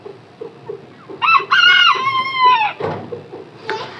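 Japanese bantam chickens on a poultry farm, soft clucks, then one rooster crows loudly up close and nearby hens squawk. Quieter clucking continues in the background.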